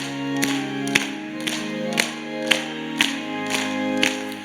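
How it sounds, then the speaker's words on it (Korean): A church congregation claps in steady rhythm, about two claps per second, while singing a hymn at a Korean evening worship service. Sustained sung tones sit under the sharp, evenly spaced claps. "우리 박수를 치면서 힘있게 찬양합니다"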